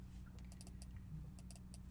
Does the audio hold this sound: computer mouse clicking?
yes